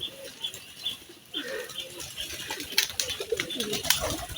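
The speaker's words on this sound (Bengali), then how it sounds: "এই যে দেখুন দর্শক, আমার কবুতরগুলা" Pet pigeons coo repeatedly around a water bath, soft throaty calls overlapping at close range with occasional brief chirps and rustling.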